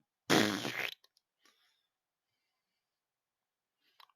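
A voice imitates a fart noise for a creature spraying sulfur in a tabletop fantasy role-playing game: one loud, buzzy burst lasting about half a second, followed by a few faint clicks.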